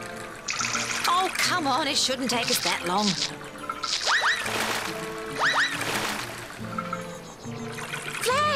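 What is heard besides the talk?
water being emptied by hand into a bath, cartoon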